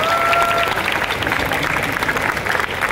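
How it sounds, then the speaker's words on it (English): Applause at a high school ceremony, a dense crowd clapping steadily throughout at full, even loudness. "please give yourselves a round of applause."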